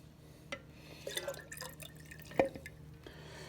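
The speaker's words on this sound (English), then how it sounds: "We will then add our juices that we saved from pressing." Saved juice from pressed fruit trickles and drips into a pitcher in a few soft, scattered splashes, faint and close by, with no talking.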